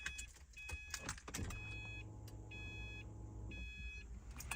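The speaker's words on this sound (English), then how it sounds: "It's a E85 pump, obviously. You can hear this priming." An E85 electric fuel pump primes in a 2008-or-later Subaru WRX/STI, giving a soft, steady low hum for about three seconds. Repeated electronic chime beeps from the car sound alongside it, and no one speaks.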